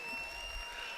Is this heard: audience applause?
yes